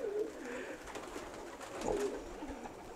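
A pigeon coos softly a couple of times, the low throaty calls close by against a quiet hiss of background noise with no talking.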